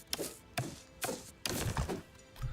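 Chopping down a tree in the video game Aiyana: a quiet run of about six evenly spaced woody thunks, each a short, dull whack, with no talk over them.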